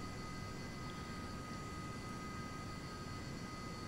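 A de Havilland Comet jetliner in Flight Simulator X climbs out after takeoff from Saarbrücken, a steady, dense jet-engine roar with a faint high whine, constant in level and heard alone without talk.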